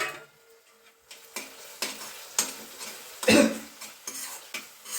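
Spoon stirring and scraping a pan while turmeric is sautéed in oil, a series of intermittent scrapes and taps with a faint sizzle beneath, one louder clatter midway, close and fairly quiet.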